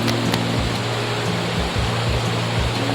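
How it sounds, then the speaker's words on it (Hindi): Cold glacier stream in the Ladakh mountains near Turtuk village, rushing water rendered as a loud, steady broadband hiss close by while a water bottle is filled, with no voices over it. "पानी है ग्लेशियर का, और मिनरल से भरा हुआ ये पानी। तो स्ट्रगल करते हुए मैं भर रहा हूँ पानी की बोतल"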